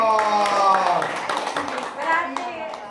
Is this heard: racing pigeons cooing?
no